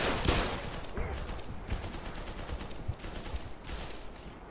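Sustained automatic gunfire in the shooter game Black Mesa, dense rapid shots rattling almost continuously with a few heavier booms punctuating the stream.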